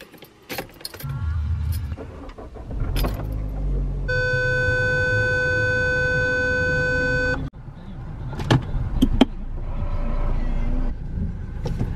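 A car engine hums steadily and close, mostly from inside the vehicle, with a sustained electronic chime tone midway, jangling keys and handling clunks, and scattered noises near the end.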